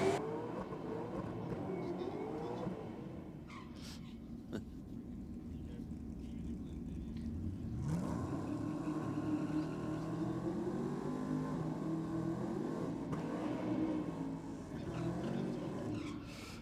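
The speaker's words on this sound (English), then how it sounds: "We can hear those superchargers just singing away on the track, Mikes." Supercharged drag racing cars, including a VE Commodore, roar and whine on a dragway in a continuous droning rumble with rising pitch sweeps, while voices talk over it.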